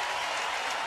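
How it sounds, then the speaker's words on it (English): Baseball stadium crowd at Shea applauding a visiting player's home run, a brief, dense wash of distant clapping and crowd noise at an even level. "nothing but applause for a visiting player hitting a home run"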